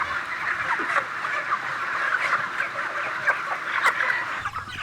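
Crowded chickens in a densely packed factory farm broiler shed cluck and murmur continuously, a dense chorus of many birds with occasional louder calls standing out.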